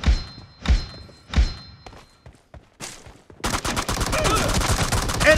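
PUBG Mobile gunfire: three spaced, heavy single shots, then a quieter pause and a sustained rapid burst of automatic fire close up, with no voices.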